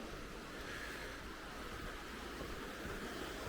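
Very faint, steady broadband rushing of a flowing river, a soft continuous wash with low rumble and no voices or distinct events.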